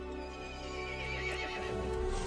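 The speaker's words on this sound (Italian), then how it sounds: "Il cavallo si infuriò e convocò gli altri mostri." A horse neighs and whinnies in Resident Evil Village, a harmonic call running the whole short stretch over faint hoof clip-clop and game ambience, no talk.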